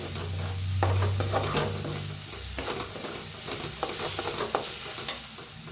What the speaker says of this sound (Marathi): चांगला कांदा भाजला आहे त्याच्यात टाकूया हळद अर्धा चमचा भाजून घेऊया हळदीला